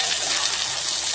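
Cut pieces dropped into hot oil in a pan with turmeric, giving a steady, loud, close hiss of frying sizzle without a break.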